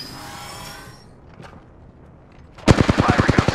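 A sharp, rapid burst of automatic gunfire erupts near the end of the clip in a video game, loud and close, following a few seconds of quieter background sounds.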